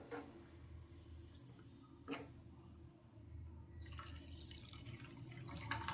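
Water poured into a pan of Kabuli chickpea curry gravy, made without onion or garlic, as a faint, steady trickle with soft drips, growing slightly fuller toward the end.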